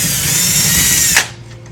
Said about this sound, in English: drilling holes for the anchors for our wall mount TV